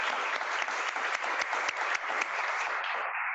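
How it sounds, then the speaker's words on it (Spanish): An audience at a talk on children's play spaces gives the speakers a round of applause, dense steady clapping from a sizeable crowd that carries on for about three seconds before cutting off abruptly. "un aplauso para los ponentes"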